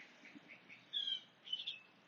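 A few small birds chirp softly nearby in a quiet outdoor spot: two short, bright bursts of tweeting rise over faint background hiss.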